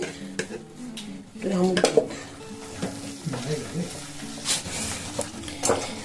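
Semai sandesh mixture, a sweet made with vermicelli, being stirred in a pan: spoon scraping and clinking against metal with a soft sizzle underneath, a voice speaking at times over the stirring.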